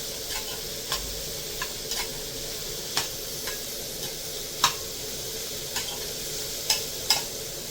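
A spoon scrapes and stirs momo filling masala in a pan with a steady low sizzle, soft irregular taps and clicks recurring throughout.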